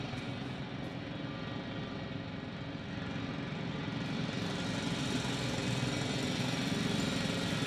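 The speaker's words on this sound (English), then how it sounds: "It's a drill!" A drill in the video game The Invincible runs as a steady, loud mechanical drone that grows slightly stronger toward the end, heard alone without talk.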